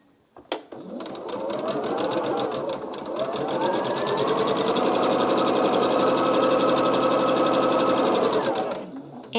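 A sewing machine stitches charm-pack quilt blocks in a fast, steady mechanical whir, starting after a few clicks, running continuously for about eight seconds close by, then stopping.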